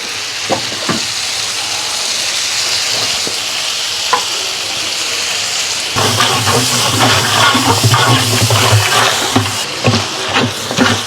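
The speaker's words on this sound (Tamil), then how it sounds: "வெங்காயம் நல்லா வேகவும் பொன்னிறம் வரணும்" Onions, cumin and curry leaves frying in a large pot for nonbu kanji, a steady loud sizzle with stirring scrapes, growing louder and busier about halfway through, with no talk.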